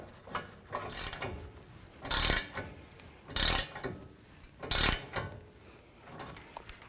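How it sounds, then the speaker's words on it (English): Ratcheting tool tightening a torsion bar adjuster on a 2000-06 GMC Yukon front suspension, heard as three loud bursts of clicking at a steady interval with quieter mechanical rattles between them. "take the tool, put it in position, and you can tighten it up"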